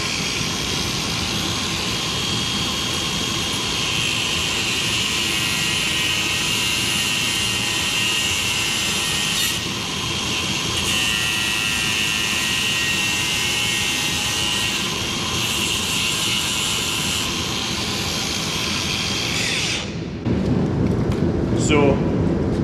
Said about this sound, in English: I do it by grinder, because I don't have a pair of snips big enough.